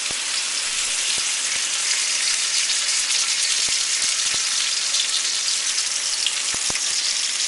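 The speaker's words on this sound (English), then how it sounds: "when you're browning this, you have to swirl it around so the oil hits all the surfaces of the pork that you put in there" Pork and shrimp stuffed tofu browns in hot oil in a wok over high heat, giving a loud, steady sizzle with occasional sharp pops throughout, and no voices.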